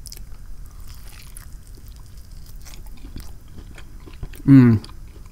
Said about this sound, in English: Let me just take a bite straight into here